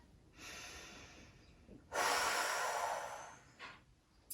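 Slow, controlled breaths during a strengthening yoga hold, a soft hissing exhale followed by a longer, louder one and a short final puff, close and quiet with no talking.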